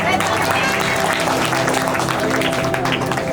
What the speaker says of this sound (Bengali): সবাই তালি হবে, তালি হবে, তালি হবে